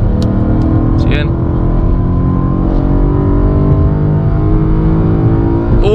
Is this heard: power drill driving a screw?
no